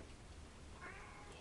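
A cat meows once, a short rising call in the middle of a steady low background hum, fairly faint and with no one speaking.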